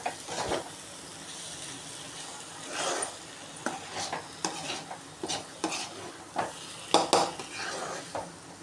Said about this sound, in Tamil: கரண்டி வச்சு நல்லா கிளறி விட்டுக்கோங்க.